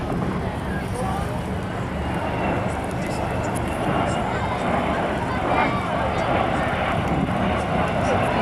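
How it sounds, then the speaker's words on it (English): Three aircraft flying past together in formation at the Sunderland Airshow, a loud continuous engine roar with wind buffeting and a voice speaking over it. "here we have all three aircraft coming back in formation together"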